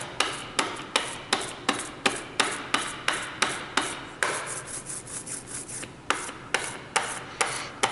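Rubber brayer rolled back and forth through tacky printing ink on a block, a close, steady series of sticky rasping strokes with sharp clicks at each lift, repeating at an even rhythm.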